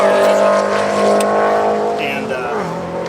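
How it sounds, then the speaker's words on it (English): A Formula Mazda race car engine fires up and settles into a steady droning idle with strong low harmonic tones, close and loud, while people talk over it. "Turn the fuel, ignition, and then just start letting the car."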